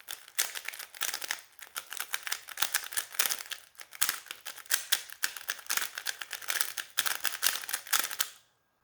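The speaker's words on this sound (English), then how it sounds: "Shuffle your cube." Rapid plastic clicking and clacking as a Rubik's cube is shuffled, twisted over and over, a dense, busy rattle that stops abruptly at the end.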